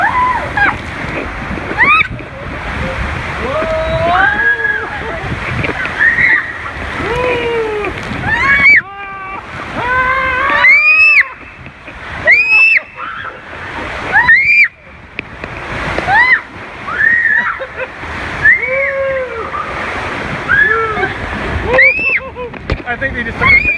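Water ride at Volcano Bay with repeated splashing and sloshing of rushing water, punctuated by loud excited shrieks and voices from riders throughout.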